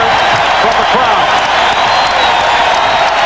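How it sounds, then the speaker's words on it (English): A basketball arena crowd at a 1993 NBA playoff game between the New York Knicks and Chicago Bulls roars in a dense, continuous wall of cheering and jeering, loud throughout, with a commentator talking over it. "Chicago will hold for a final shot of this third quarter as they hear it from the crowd"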